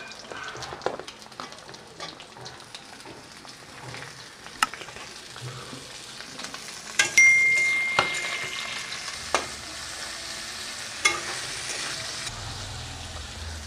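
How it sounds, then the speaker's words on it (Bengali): Potatoes and yardlong beans fry in a pan for a Bengali dudh and posto shukto, with steady close sizzling and repeated scraping stirs throughout and a few sharper knocks of the spatula against the pan. "তো আলু আর বরবটিও ভাজা হয়ে গেছে আমার।"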